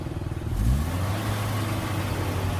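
Suzuki Jimny engine, formerly raced and given a full rebuild back to standard, revving up once close by then holding a steady low idle-like drone, no speech.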